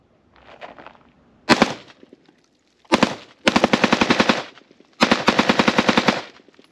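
Rapid semi-auto gunfire from a rifle fitted with a Rare Breed FRT-15 forced-reset trigger, a lone shot followed by three loud bursts of quick, evenly spaced cracks with short pauses between strings.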